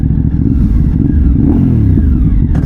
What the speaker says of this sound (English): Can't get enough of that exhaust note.